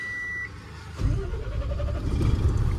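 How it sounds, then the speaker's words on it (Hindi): A truck engine starts after a brief high beep, cranking into a low, rumbling idle that grows steadily louder and stays close. "और भाई हम करेंगे गड्डी स्टार्ट,"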